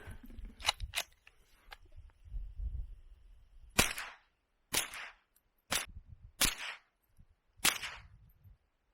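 A Ruger 10/22 rifle fires .22lr rounds outdoors on a prairie in wet weather, with about seven sharp cracks spaced roughly a second apart, some closer together early on, and quiet rustling between shots.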